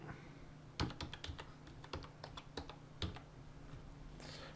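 Quick bursts of keystrokes on a computer keyboard, close and clear in a quiet room, with short pauses between runs while code is entered.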